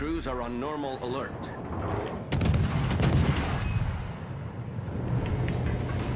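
Heavy cannon fire from warships in a naval battle game, a series of booming blasts and rumbling impacts running under excited talk, loud and dense through the middle.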